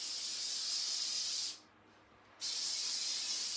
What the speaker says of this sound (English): give a good spray. This is the lightest hairspray.